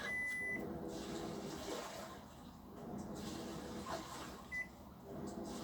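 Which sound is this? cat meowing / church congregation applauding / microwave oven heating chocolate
microwave oven heating chocolate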